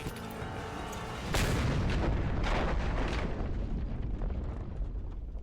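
A grenade blast and gunfire in the video game Just Cause 2 build into a loud, sustained rumbling explosion with crackling bursts. The sound then slowly fades, and no one speaks.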